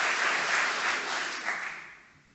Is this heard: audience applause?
yes